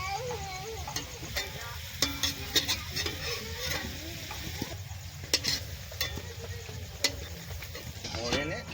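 Potatoes frying in hot oil in a pan, stirred at intervals. A steady sizzle runs throughout, broken by scraping clicks from the spatula, and faint voices and a child's sounds can be heard in the background.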